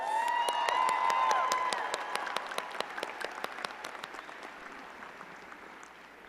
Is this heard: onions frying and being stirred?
no